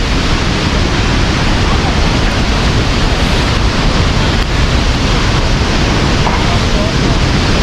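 Tad Yuang waterfall in southern Laos, swollen at the end of the rainy season, gives off a loud, unbroken roar of rushing water that stays constant throughout.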